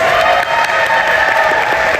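Loud applause and cheering from the crowd at a Sonic Expo 2024 cosplay competition, thick continuous clapping with scattered voices whooping close by.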